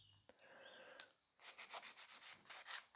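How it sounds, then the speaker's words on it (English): A nail file scrapes across a gel nail in a quick run of short, soft rasping strokes, close up and quiet, after a brief faint pause with small clicks. "So when I'm filing, I would always start filing the side"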